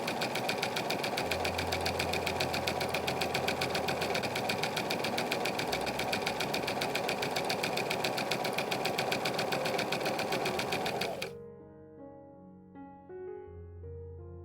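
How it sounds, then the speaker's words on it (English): A sewing machine stitches a shirt collar in a steady, fast, close mechanical hum for about eleven seconds, then stops, and soft background music is left. "While sewing, make sure to navigate the pointy edges and curved edges carefully."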